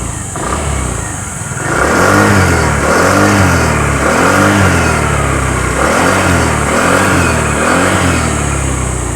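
A Peugeot Django Evo Sport 150 scooter engine runs cold just after startup. It is loud and close, idling and then revving in a series of repeated rising and falling surges.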